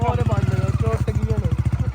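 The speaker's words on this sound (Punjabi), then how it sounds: "ਮੋਟਰਸਾਈਕਲ ਰਿਮੋਟ ਤੇ ਸਟਾਰਟ ਹੁੰਦੀ" A motorcycle started by remote idles nearby with a rapid, even engine thump, while people talk loudly over it.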